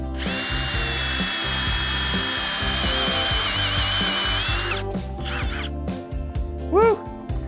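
A power drill whines steadily at high pitch for several seconds while drilling through metal, then stops, followed by scraping and clattering noises up close.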